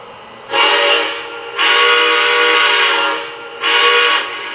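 A Lionel Legacy AT&SF 4-8-4 Northern model steam locomotive sounds its whistle in three loud, steady blasts, the middle one longest, over a faint running hum.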